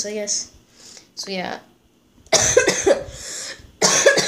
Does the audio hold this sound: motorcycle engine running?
no